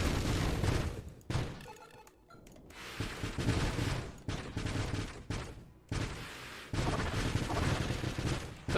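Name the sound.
missiles firing in the video game Nova Drift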